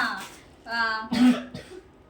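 Short bursts of a child's coughing and throat clearing, close and fairly loud, with a brief voiced sound between them in a quiet room.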